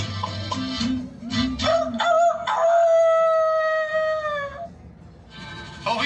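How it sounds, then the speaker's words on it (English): An animatronic rooster at a family farm attraction crows a long, drawn-out mechanical cock-a-doodle-doo after some short sung or spoken bursts, loud and close. "Rooster in the barnyard, this is what he sings."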